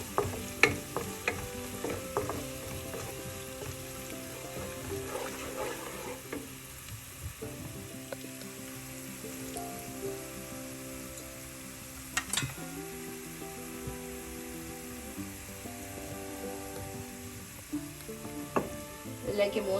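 Turmeric and spices fry in hot oil for a spicy sole fish curry while being stirred, giving a steady close sizzle with repeated scraping and clinking strokes over about twenty seconds and no talk.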